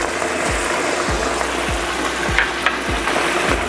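Green onions hit a pan with cooked eggplant in garlic sauce, giving a steady hiss with a few faint clinks and scrapes, and no one speaking.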